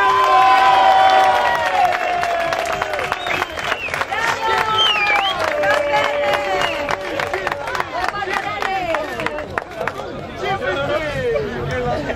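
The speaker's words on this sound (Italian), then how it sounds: "credo che ci saranno forti forti applausi" Spectators at a slalom rally event cheer, shout and clap for a Renault Clio R3 driver, with loud chatter and whistles filling the scene continuously, while a voice talks over the crowd.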